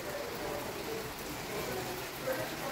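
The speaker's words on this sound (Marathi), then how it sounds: "बाहेर खूप मोठा पाऊस येत आहे" Heavy rain falls steadily outside, a dense even hiss of drops holding at a moderate level throughout with no voices.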